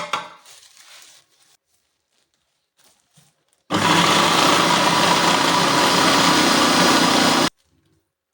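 An electric chopper grinds onions and garlic in one loud, steady whirring burst of about four seconds, preceded by faint kitchen handling sounds and followed by silence.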